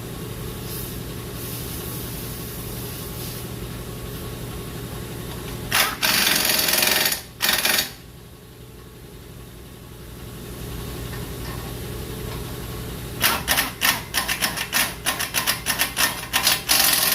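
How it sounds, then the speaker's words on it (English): Power tool, likely an impact wrench, tightening the CV axle nut on a Dodge Journey, loud rapid rattling bursts, one long run mid-clip and a series of short hammering bursts near the end, over a steady hum. "You want to tighten everything up."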